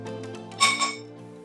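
A small metal strainer clinks twice against a pot while lifting bonito flakes out of broth, two bright ringing taps over a faint background hum.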